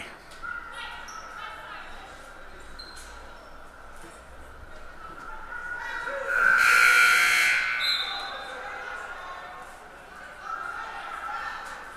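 A loud electronic substitution buzzer at a basketball game sounds once for about two seconds amid gym crowd noise and distant chatter, standing out clearly above the background.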